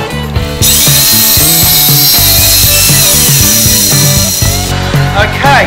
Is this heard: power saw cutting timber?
yes